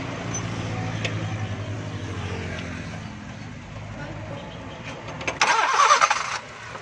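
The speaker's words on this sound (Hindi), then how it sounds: "गाड़ी स्टार्ट भी सही हो गई है।" A CNG-fitted car starts up: a low idling rumble carries a mumbled voice, then the starter cranks briefly near the end and the engine catches with a sharp, loud burst.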